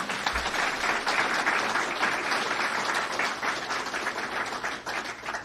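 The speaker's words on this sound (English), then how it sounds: "Please give a big round of applause to these guys." A room of people at a press conference gives sustained applause, a dense, steady clatter of many hands clapping that carries on without a break and begins to fade at the very end.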